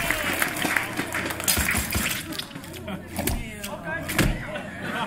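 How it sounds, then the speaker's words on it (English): A tournament crowd claps and reacts to a fatality in a fighting game, scattered claps and thumps rising and falling with murmuring voices, fairly faint and uneven under a busy, noisy room. "I love hearing the crowd reaction to that. It's always like, it's like clapping and then, oh"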